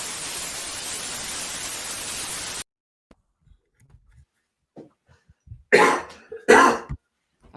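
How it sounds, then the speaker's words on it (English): A burst of hiss gives way to near silence, then two loud, harsh coughs close by, each followed by a short throat-clearing tail. "Still got that cough"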